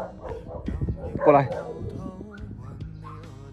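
A 24-day-old male puppy of a prized red-coated breed gives small yips and whimpers near the microphone while someone talks over it.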